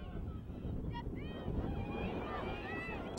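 Wind buffets the microphone with a steady low rumble throughout at an outdoor youth soccer match at Lancaster National Soccer Center, while a faint voice speaks intermittently over it.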